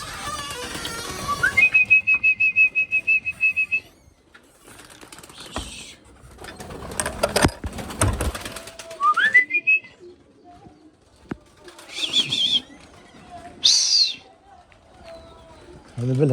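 Pigeons calling in a loft, with bursts of bird whistles and short sliding calls scattered between quiet gaps, close by, while someone talks intermittently.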